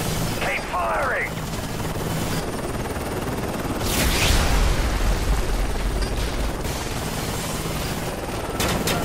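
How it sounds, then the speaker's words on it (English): Enemy helicopter in Call of Duty Modern Warfare 3, Dust to Dust mission: a steady rotor drone over gunfire and mechanical battle noise, swelling louder midway, with radio voices speaking. "Enemy chopper closing on your position."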